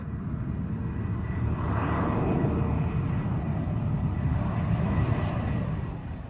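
Jet aeroplane flying past, a steady loud engine roar that swells in the middle and holds throughout, with no speech, from a 1969 children's animation about flying.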